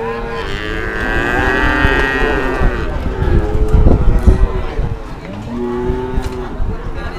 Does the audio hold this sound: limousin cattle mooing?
yes